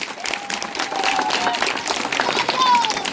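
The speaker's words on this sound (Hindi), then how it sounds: "एक बार जोरदार तालियां आप लोगों के लिए।" Crowd applause at an outdoor Aam Aadmi Party political rally in Sangam Vihar, a steady wash of clapping with a voice carrying over it throughout.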